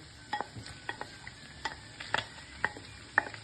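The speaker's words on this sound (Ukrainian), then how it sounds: "Продовжуємо помішувати, смажимо до прозорості цибулі." Smoked pork belly and sliced onion frying in a pan while being stirred, a quiet sizzle under a series of light scraping clinks from the utensil, about eight of them spaced irregularly.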